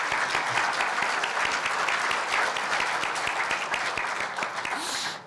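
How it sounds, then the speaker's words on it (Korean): An audience at a 70th-anniversary ceremony for a Korea University student newspaper claps in loud, sustained applause that fills the whole clip, with no talk over it. "네, 큰 박수 부탁드리겠습니다."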